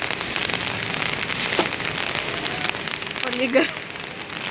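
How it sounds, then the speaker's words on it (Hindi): Heavy rain falls steadily and hard on surfaces, a dense continuous hiss throughout, with a voice speaking briefly over the downpour. "मूसलाधार बारिश हो रही है"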